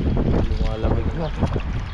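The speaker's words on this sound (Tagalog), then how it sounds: "Lumalakas na yung hangin." Strong wind roars over the open sea as heard from a small fishing boat on the water, dense steady gusting noise throughout with a voice speaking over it.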